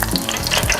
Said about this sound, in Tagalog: So ready rin maglangoy ang empanada sa mantika.